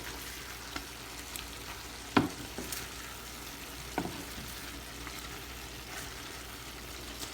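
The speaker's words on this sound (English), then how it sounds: "Stir in the Irish and thing in the gravy so they can cook." A spoon stirs Irish potatoes into simmering Jamaican curry chicken gravy in a pot, with a soft continuous bubbling sizzle and a couple of sharper scraping clinks against the pot.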